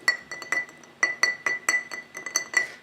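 A fresh ice sphere clinks repeatedly against a glass of Bernheim Barrel Proof bourbon, bright close taps in an irregular rhythm with no talking.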